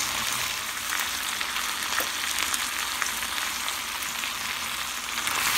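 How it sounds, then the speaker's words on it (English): Spinach and garlic fry in butter in a pan, a steady, dense close-up sizzle with occasional small pops and stirring sounds, continuous throughout without talking. "I'm going to put the garlic in now and stir it a little bit, and then I'm going to add the rest of the spinach."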